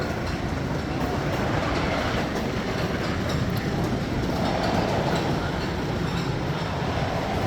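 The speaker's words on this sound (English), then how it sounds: "There is the mine train going up the hill." A mine train roller coaster at Six Flags Great Adventure climbs its lift hill with a steady, dense rumbling clatter of track and cars that runs without letup, fairly loud and close, with no talking.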